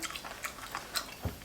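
Close, quiet chewing of crunchy giant cuttlefish dipped in spicy fermented-fish seafood sauce, a run of soft crisp bites and wet mouth sounds in a steady rhythm.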